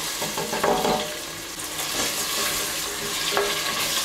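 Diced potatoes fry in oil with tomato paste and pepper paste, giving a steady close sizzle and crackle with a few stirring scrapes and no talk.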